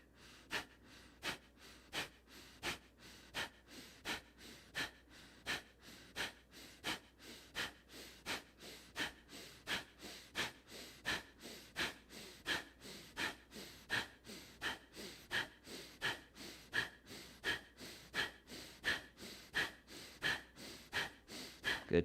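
Rapid, rhythmic breathing exercise with repeated sharp exhales and quick inhales, about two per second, steady and close throughout a high-intensity workout, with no talking.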